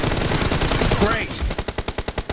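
Automatic gunfire fills a team deathmatch video game, with dense shooting giving way to a rapid, evenly spaced burst of loud, close shots.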